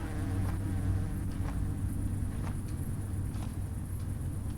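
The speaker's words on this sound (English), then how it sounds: "Why are there so many damn bees?" Bees buzz in the video game Hungry Lamu, a steady, droning insect hum that stays even and close, with a few faint clicks and no talk.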